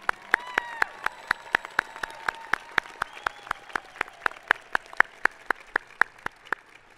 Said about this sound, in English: Please give a round of applause to Bertha Galan.